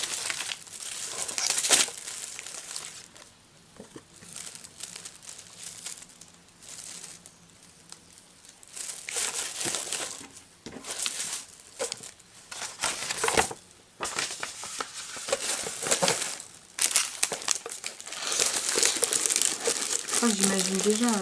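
Crinkling craft papers handled while being unpacked from a craft box, loud rustling and crackling bursts close by through the whole stretch, with a person talking intermittently over it.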